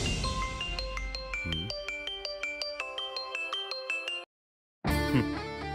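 A phone ringtone plays a bright repeating electronic melody of quick chiming notes, breaks off into silence, then starts again.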